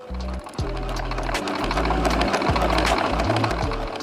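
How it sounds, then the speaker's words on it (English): A sewing machine runs steadily, close and fairly loud, sewing pleated fabric with a continuous buzzing whir and a low hum underneath, with no talk. "So now we're just gonna sew it up and we'll be finished."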